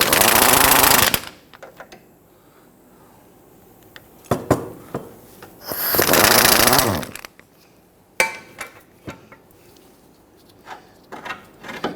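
A power tool, likely an impact wrench driving a swivel socket, loosens a 19mm control arm bolt on a Kia Sorento in loud buzzing bursts, separated by quieter clanks and metallic taps.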